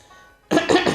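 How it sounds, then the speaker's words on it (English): A single throat clearing breaks a short quiet, a close, rough burst followed by a second rasping push. "I had to clear my throat."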